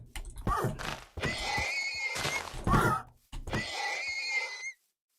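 Horses whinny in Minecraft with the Galacticraft mod, several loud, close neighs following one another with short breaks and a dull thunk between them.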